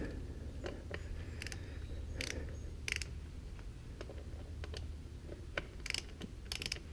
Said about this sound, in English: undo the pinch bolts here